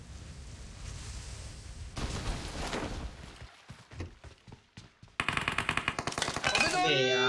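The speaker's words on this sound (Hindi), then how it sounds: "फायर दे बाहर से, फायर दे।" Gunfire from the video game PUBG Mobile, with rapid bursts of automatic shots and scattered single cracks that grow denser and louder toward the end, mixed with game sound effects.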